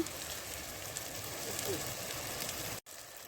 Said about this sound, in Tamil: இது நல்லா கிரேவி ஆகிற வரைக்கும் நல்லா இதை வதக்கி எடுத்துக்கோங்க